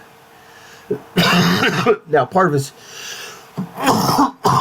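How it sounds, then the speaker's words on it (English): A person coughs and clears their throat in a short, harsh burst of hacking, mixed in with a few spoken words, close and loud. "as I'm hacking and coughing and whatnot"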